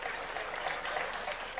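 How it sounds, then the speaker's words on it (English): Audience at an African leaders' summit applauding, a continuous patter of many hands clapping at moderate level throughout the short stretch, with faint voices mixed in. "A clap for Mariam, please, for moderating us very well"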